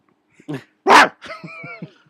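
A dog barks several times nearby: a couple of sharp, loud barks followed by a run of shorter yips and whines, with no other sound around them.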